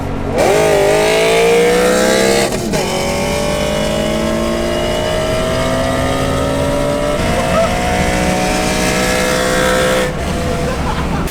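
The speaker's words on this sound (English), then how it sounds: "This is a straight 6, so yeah, it's got a proper sort of raspy tone to it." A BMW M3 straight-six engine roars hard under acceleration in a race, its raspy tone climbing through gears with brief dips at shifts, loud and close throughout.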